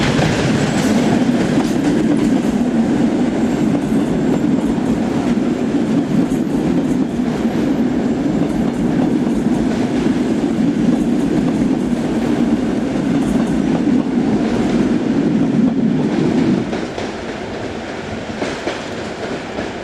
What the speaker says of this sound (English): this mixture of Plan V2 and Plan V7 units arrive with a service from Zwolle via Breda